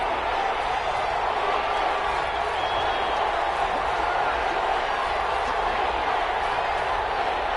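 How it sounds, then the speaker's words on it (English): Football stadium crowd building noise before a big third down in a Raiders game, a broad, sustained roar that stays loud and even throughout, with a commentator's voice over it. "the crowd getting into it as we come up on a big 3rd down"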